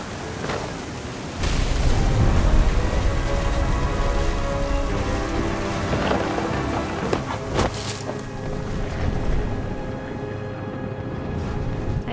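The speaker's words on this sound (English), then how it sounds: "The thunder sounded much too close and full of angry power." Heavy rain pours steadily during a thunderstorm in a stormy scene from the game What Remains of Edith Finch, a loud, dense wash that swells early and holds, with no clear thunderclap standing out.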